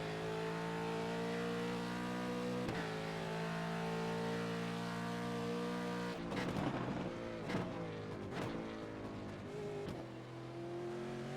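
A V8 race car accelerates on a track with a steady, droning engine note that climbs up through the gears, with brief breaks at the gear changes and rough, fluttering bursts partway through.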